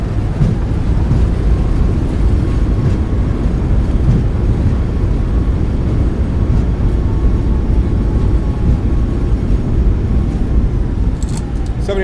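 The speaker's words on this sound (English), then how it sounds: "Nose down gently. Reversers are out." Thrust reversers on a Boeing 737 MAX 8 in a flight simulator roar as a broad, loud, steady rumble after landing, holding evenly throughout with faint speech mixed in.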